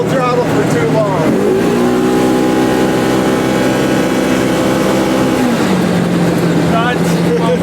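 A vehicle engine at full throttle, a loud, sustained high-revving drone that climbs in pitch, holds steady, then drops back toward the end.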